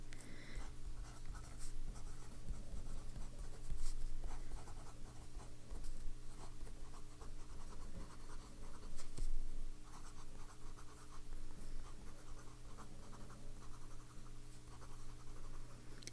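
An Edison fountain pen scratches across paper with Birmingham Pen Company Crisp Formula ink in continuous close strokes, a steady papery scritching with brief pauses between words and a low background hum.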